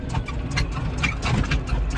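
An old tractor engine runs steadily nearby, a low continuous rumble with a faint ticking rhythm and no talk over it, on a farm road.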